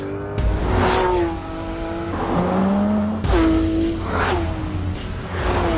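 A Porsche 911 GT3 RS's 4-litre flat-six engine revs hard and close, rising through the gears with sharp shifts between sweeping climbs in pitch, loud and continuous.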